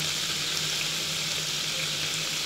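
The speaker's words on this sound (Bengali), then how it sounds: "এই তেলের মধ্যে আমি দিয়ে দিচ্ছি এক টেবিল চামচ ঘি।" A tablespoon of ghee sizzling steadily in hot oil in a pan after fried prawns are lifted out, a dense, even frying hiss with no talk.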